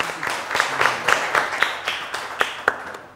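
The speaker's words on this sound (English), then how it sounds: "Let's give them a huge round of applause" Crowd applause with sharp, rhythmic clapping peaks, steady and fairly close, lasting a few seconds, at a secondary schools quiz competition.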